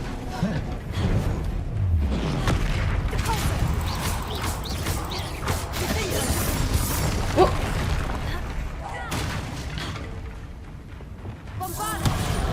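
Bombarda spell explosions in Hogwarts Legacy go off as a series of heavy booms, crashes and shattering hits, mixed with combat clatter at a moderate level.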